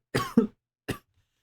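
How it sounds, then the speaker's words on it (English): A person coughs three times in quick succession, two close together and then one more after a short pause, each cough near and distinct against silence. "The coughing is unrelated."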